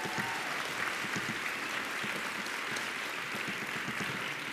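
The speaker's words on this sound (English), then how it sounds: "Can you give another round of applause to Dim Deb?" An opening plenary audience gives a steady round of applause, a continuous even wash of many hands clapping at moderate distance, fairly quiet overall with no speech over it.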